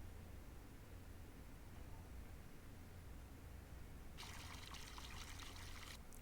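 Water poured in a farming game, a steady bright hiss of trickling liquid that starts partway in and runs to the end over a constant low background rumble.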